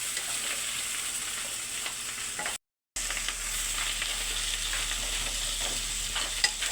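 Tomato and coconut curry with green chillies frying in a pan, a steady close crackling sizzle with occasional stirring scrapes, briefly cut off to silence before resuming, with no talk.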